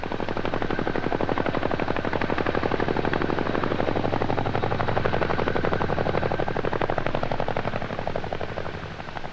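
Heavy rotor thump of a CH-47 Chinook helicopter airlifting a slung load, a loud continuous rhythmic chop with steady turbine roar throughout, easing slightly near the end.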